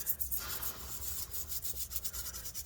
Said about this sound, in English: I'm just scrubbing off the corrosion and residue here